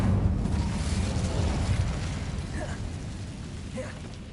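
An Incendio fire spell blast in Hogwarts Legacy gives a low, rumbling whoosh of flame that swells at the start and slowly fades, with faint mechanical creaks and small clicks over the tail.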